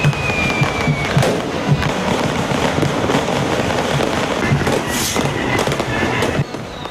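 Dense New Year firecrackers and fireworks crackle and bang nonstop around a street in Tondo, Manila, loud close pops layered over a constant distant rattle of explosions.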